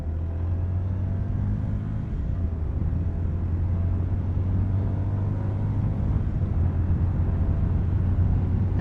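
A 2024 CFMoto 300NK motorcycle engine ridden at about 60 mph, a steady low droning hum with rushing wind, continuous and even throughout.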